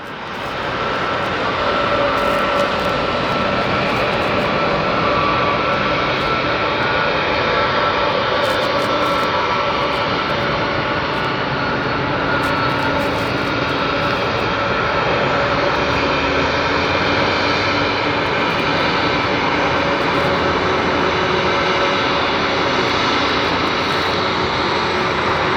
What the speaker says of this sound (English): Listen to the distinct sound of these Pratt & Whitney gear turbofans.